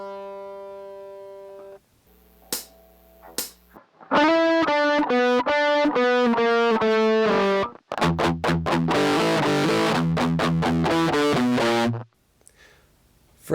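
Distorted electric guitar plays a rhythmic riff of chugging notes and sliding chords, loud and sustained, after a few scattered notes at the start.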